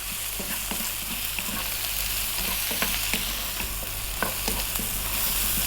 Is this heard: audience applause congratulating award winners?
no